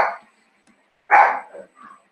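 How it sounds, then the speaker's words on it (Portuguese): A dog barks a few times indoors: one short bark at the start, then a louder bark followed by two softer yips, with quiet gaps between them. "Não, lá vai o cachorro."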